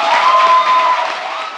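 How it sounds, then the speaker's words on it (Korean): A studio audience at a Korean talk show applauds, a muffled, even wash of clapping and light cheering that stays loud, then eases slightly toward the end. "박수 한번 부탁드립니다."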